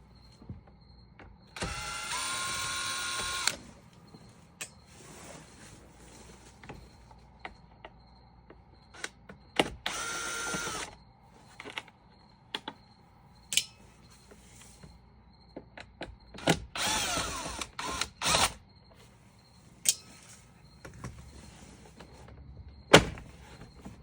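A power drill backs three screws out of a Honda Element dashboard, giving several separate bursts of close, loud whirring a couple of seconds long, spaced apart among quieter clicks and handling noises.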